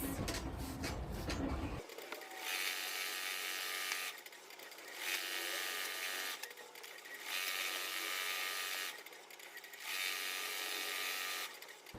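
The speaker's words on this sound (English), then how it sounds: "I'm running my test stitch right now" An embroidery machine sews a test stitch with a steady mechanical whirring that runs in repeated bursts, each a few seconds long and separated by short pauses, loud and close, with no voices.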